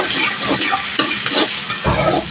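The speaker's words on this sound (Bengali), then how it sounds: "এই পর্যায়ে কুচানো পেঁয়াজটা দিয়ে দিলাম একটু ব্রাউন কালার করে" Chopped onions fry in a pan of oil over a low gas flame for a Bengali fish curry. There is a steady close sizzle with scraping stir strokes, and one louder burst near the end, without talk.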